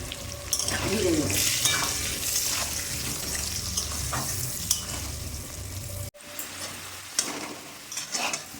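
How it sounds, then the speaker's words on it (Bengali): Potatoes fry in oil with a little salt and turmeric, giving a steady close sizzle with scraping stirs; the sound cuts off abruptly partway through, then returns more quietly with a few clinks. "আলুগুলো ভাজা হয়ে গেছে,"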